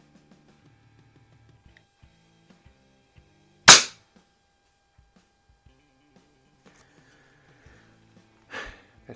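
A Weihrauch HW50S spring air rifle fitted with a red dot sight fires two sharp shots several seconds apart, each a loud crack with a quick decay, with quiet surroundings in between.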